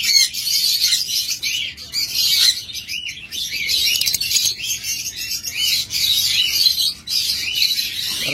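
A pair of opaline cockatiels chirps continuously up close, bright overlapping calls and tweets filling the space with brief dips between bursts, no voices present.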